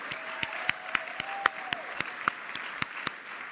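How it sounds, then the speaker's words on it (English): A conference audience gives sparse applause, a handful of distinct claps spaced irregularly over a quiet room, with a faint voice briefly audible underneath. "a big round of applause too"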